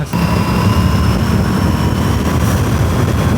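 An Aprilia RS457 motorcycle riding in fifth gear below 5000 RPM gives a loud, continuous engine drone blended with rushing wind, steady and unbroken throughout.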